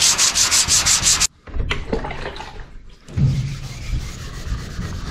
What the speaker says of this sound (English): I've been working this down with my 320 grit wet paper, just wet sanding this